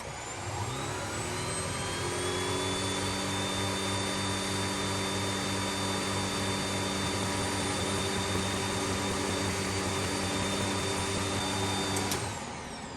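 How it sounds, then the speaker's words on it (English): An electric boat motor run from an EcoFlow power station in X-Boost mode soft-starts, its steady electric whine rising in pitch over the first couple of seconds, holding an even, fairly loud drone, then cutting off near the end. "we should see it soft starting the motor"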